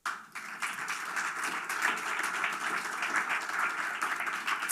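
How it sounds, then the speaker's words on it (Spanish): A church congregation applauds during a sermon, a steady mass of clapping that starts abruptly and holds at an even level for several seconds without speech. "dale un aplauso al Señor"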